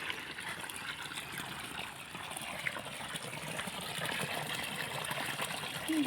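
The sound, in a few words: borewell water flowing out of a 2.5 inch pipe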